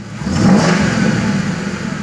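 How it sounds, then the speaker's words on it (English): A 2000 Ford Crown Victoria V8 with high mileage, revving and stumbling as it falls on its face, gives a steady loud mid-pitched engine roar that swells slightly and holds for about two seconds, with no talking. "Now when I would rev it, it would actually want to fall on its face on the D-rev."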